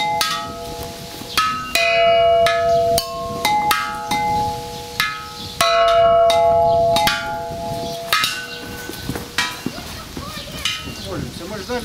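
Bells are struck again and again, each strike ringing out with a bright metallic tone that overlaps and fades as the next one lands.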